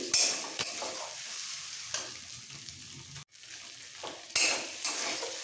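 A spoon stirs and mixes fish stuffing for potol dorma in a pan over heat, soft scraping with a light sizzle and occasional clinks of utensil on metal.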